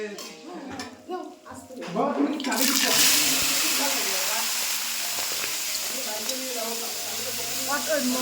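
Brinjal slices frying in oil in a wok, a loud steady hiss that swells up after a few seconds and carries on close by, with people talking over it.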